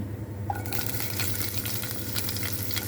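Cumin seeds hitting hot oil in a pan with green chilies for a broad bean and tomato curry, a sudden bright sizzle bursting in and crackling steadily, close and alone.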